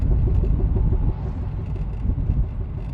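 A Volvo 740 driven with loose wheel nuts after a tire swap gives a steady, loud low rumble and road drone, with an uneven throbbing beat running throughout and no voices.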